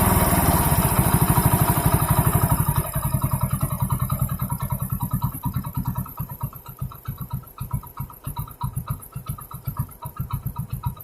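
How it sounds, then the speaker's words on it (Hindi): A Hero HF Deluxe motorcycle engine idles close by after a mileage adjustment, its steady single-cylinder putter settling from a faster rev into an even, pulsing rhythm. "हम कंट्रोल कर लेंगे ताकि हमारा बाइक बंद ना हो,"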